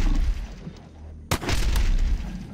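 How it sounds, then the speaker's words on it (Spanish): Gunfire in the survival video game Radiation Island, with a sharp, loud shot near the middle cutting through a steady rumbling game background; a second fainter report may follow. "Dos tiros mal, ¿eh?"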